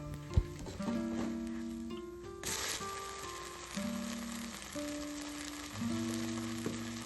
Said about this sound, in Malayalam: അതിനെ തിരിച്ചിട്ട് കൊടുക്കുക എന്നിട്ട് വീണ്ടും ശകലം എണ്ണ അതിൻ്റെ സൈഡിലൊക്കെ ഒന്ന് തൂക്കി കൊടുക്കുക